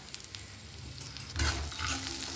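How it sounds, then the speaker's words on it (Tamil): Cluster beans sautéing in a pan with salt and turmeric, a steady sizzle that grows louder and brighter partway through as they are stirred, close by with no talk. "1 நிமிஷம் வதக்கி விட்டுக்கலாங்க."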